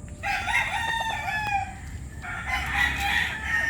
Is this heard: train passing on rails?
no